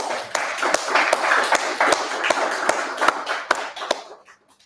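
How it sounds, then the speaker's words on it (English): A small audience at a live-streamed talk claps for the speakers: a dense patter of sharp, close hand claps that trails off and thins out toward the end. "Maybe another round of applause for our speakers."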